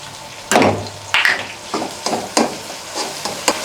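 Ginger garlic paste fries with softened tomatoes in a pan, a steady sizzle broken by repeated scraping strokes of a spoon stirring the mixture.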